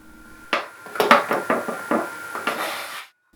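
Glued wooden boards of a Les Paul style guitar body sliding at the joint: a short series of dry scraping clicks, close by, lasting a few seconds before stopping.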